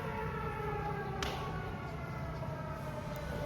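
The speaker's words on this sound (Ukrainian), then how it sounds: "тут почалась повітряна тривога." Civil defense air raid siren sounding over rainy seaside Chornomorsk, Ukraine: a steady, sustained wailing tone held throughout, with a single soft thump partway through.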